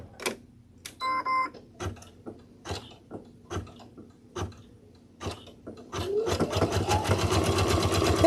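Sewing machine stitching in short, separate stop-start clicks and mechanical ticks at close range, then settling into a loud continuous run of stitching for the last couple of seconds.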